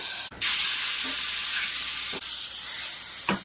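A hot tempering of chana dal, mustard seeds, cumin, chillies, curry leaves, garlic and hing is poured into mango dal, giving a loud, continuous close-up sizzle and hiss broken by a few brief clinks.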